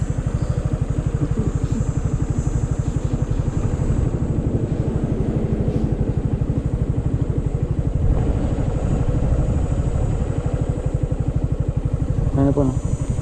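A 2021 Suzuki Gixxer motorcycle engine runs steadily nearby with a constant low throbbing rumble throughout, with faint voices talking over it.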